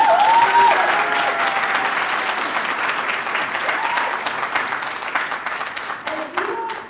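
An audience at the Elevate Her Africa launch bursts into loud, close applause with crisp individual claps, the clapping gradually thinning and tapering off toward the end.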